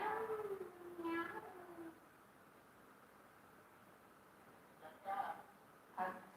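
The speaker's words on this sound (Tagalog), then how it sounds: "Meow. Meow." A cat gives a drawn-out, wavering meow, then two shorter, fainter calls after a quiet gap. Light background hiss runs underneath.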